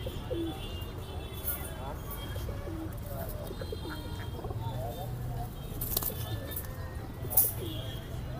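Pigeons coo softly and repeatedly at a busy pigeon market in Gollamari, Khulna, faint soft calls and occasional chirps over a steady crowd murmur and traffic, with people talking nearby.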